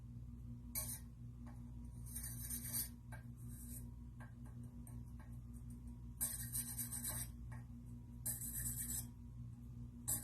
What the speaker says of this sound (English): I'm going to use a skewer to poke the holes